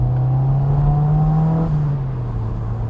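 A Mazda MX-5 NC with an upgraded 4-to-1 exhaust manifold accelerates nearby, its twin-cam engine giving a steady, loud droning note that rises briefly and then eases off, with no talking.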